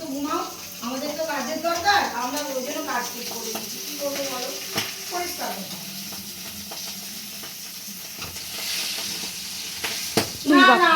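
Pabda fish fry in hot oil with a spattering sizzle and sharp pops, partly under a person's talking, with a few clattering pan sounds near the end.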